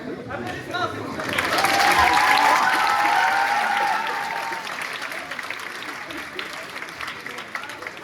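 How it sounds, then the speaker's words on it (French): An audience claps during a stage show, applause swelling to a loud peak and then tapering to a lighter patter, with some crowd chatter and talk mixed in. "Applaudissements, s'il vous plaît."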